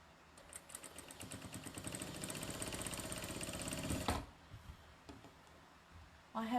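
A sewing machine chain piecing quilt squares of half square triangles: a steady, moderately quiet whirring hum with fast regular needle ticking for about four seconds, then it stops, leaving soft handling sounds.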